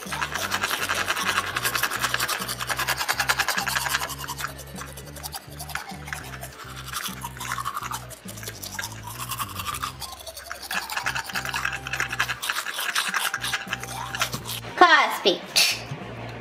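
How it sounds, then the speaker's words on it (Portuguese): A toothbrush scrubs the plastic teeth of a Baby Alive doll with steady, quiet scratchy strokes. The brushing continues under soft background music, ending in a brief clatter. "agora vamos escovar o dentinho"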